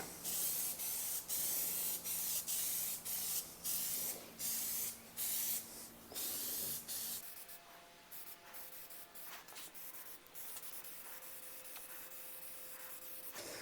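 A can of protectant spray hisses in a series of short bursts onto motorcycle plastic, then quieter intermittent sprays and light rubbing follow; no voices.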